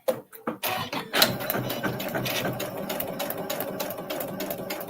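A sewing machine stitches slowly through fabric and paper for foundation paper piecing, a steady close rhythmic whirring chatter that runs throughout after a few brief knocks at the start.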